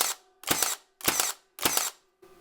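A Milwaukee GEN II cordless nailer set all the way up fires nails into hard white oak, four loud sharp bursts at a steady rhythm about half a second apart, close and alone, each with a short mechanical rattle.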